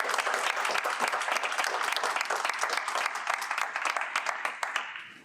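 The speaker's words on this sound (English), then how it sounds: "Gentlemen, let's give them a round of applause." Guests at a 2020 renovation ribbon cutting ceremony break into steady crowd applause, dense and lively clapping that holds for several seconds before beginning to taper off at the end.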